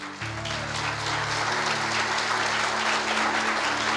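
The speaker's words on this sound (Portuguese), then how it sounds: "Vamos aplaudir Jesus?" A church congregation claps for Jesus in steady, continuous applause from a large crowd, with a low electronic hum from the sound system underneath.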